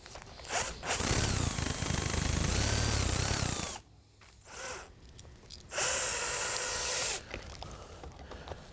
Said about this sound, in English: Now I'm going to go ahead and drill out this tubular rivet so that we can get it disconnected.